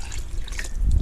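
Water splashes and trickles into a pot of red beans for Louisiana red beans and rice, a short, close pour with a low thump at the end.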